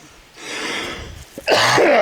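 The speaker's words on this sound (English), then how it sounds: "No, I'm just coughing." A man coughs twice in harsh, close bursts, the second louder and rougher than the first, while working on a kerosene heater amid insulation.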